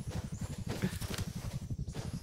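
Horse galloping in the game Rust, a fast, steady run of low, thudding hoofbeats close by, rhythmic and unbroken throughout.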